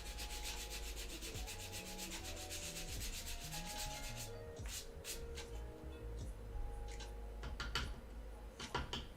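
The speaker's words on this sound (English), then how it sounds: "This is a rougher grit, so I'm going to try to get those bumps out first." Rough-grit sandpaper rubs steadily by hand over a Junker Queen cosplay piece from Overwatch to knock down bumps. The scratchy strokes are close, continuous and fairly even, with a faint tonal background hum and no talking.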